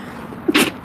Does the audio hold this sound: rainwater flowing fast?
no